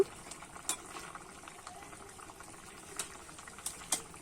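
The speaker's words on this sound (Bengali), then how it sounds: "মাছটা দিয়ে আমি হালকা করে ফুটিয়ে নেব" Rohu fish curry with tender bottle gourd simmering gently in a pan, a faint bubbling with soft pops and a few crisp ticks spaced through the clip.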